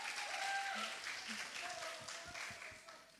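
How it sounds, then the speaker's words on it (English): A live audience at an event applauds in a steady, fairly loud round of clapping with crowd noise, under faint background chatter. "Round of applause for yourself."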